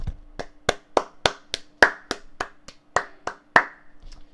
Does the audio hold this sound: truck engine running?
no